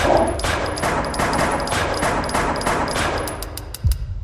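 Rapid, sustained bursts of automatic gunfire in the video game Deppart Prototype, loud and close, with rattling shots continuing throughout and a heavier thump near the end.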